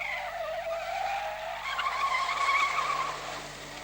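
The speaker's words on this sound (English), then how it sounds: "The basic skill they learn is the quick getaway and the fastest U-turn in the business, called the bootleg." A car skids through a bootleg U-turn with the parking brake locking the rear tires, a loud drawn-out tire squeal that rises and wavers over the engine for several seconds.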